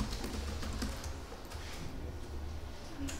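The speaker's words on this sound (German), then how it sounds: "Wenn man dann tippen kann." Rapid tapping on a computer keyboard runs faintly and steadily throughout, with a continuous low hum of room noise underneath.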